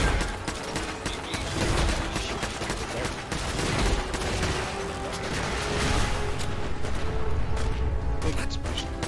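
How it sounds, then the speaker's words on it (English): Rapid gunfire and explosions from the video game Fallout 4 form a dense, continuous barrage of sharp cracks and booms that stays loud and busy throughout. "Big explosion."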